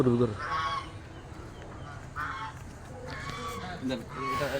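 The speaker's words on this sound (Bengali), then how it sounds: "এখানে ওইদিকে কিছু হাঁস আছে" Ducks honk several times at a middle distance over a steady outdoor background, with a voice speaking briefly in between.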